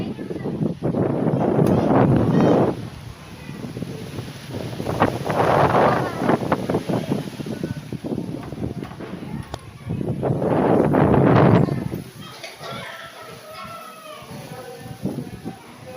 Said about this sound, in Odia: ଦେଖନ୍ତୁ ଆଜ୍ଞା କେମିତି କ'ଣ ପବନ ହେଉଛି।